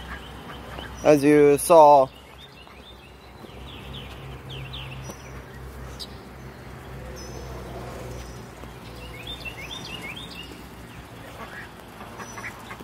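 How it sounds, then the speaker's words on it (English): Ducks kept outdoors alongside chickens give a short, loud burst of close quacking, then the yard settles into a low ambient hum with faint scattered calls and a person speaking. "a bunch of two ducks and a bunch of chickens out here right now"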